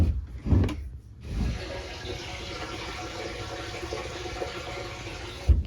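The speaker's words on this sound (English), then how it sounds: "here's the hose coming from the creek. You'll be able to even hear it." Creek water runs from a hose into a filling tank at an off-grid homestead intake, a steady close rushing and splashing flow after a few soft knocks at the start.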